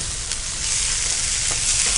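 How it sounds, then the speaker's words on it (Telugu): Chicken frying in a pan with a paste of green onion, ginger and garlic, a dense continuous sizzle up close with light stirring, nobody talking. "ఇప్పుడు ఫ్రై చేద్దామండి"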